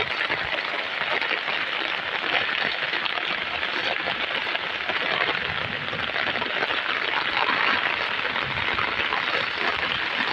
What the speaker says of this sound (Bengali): দেখো কি পরিমাণে ঝড় বৃষ্টি শুরু হয়েছে।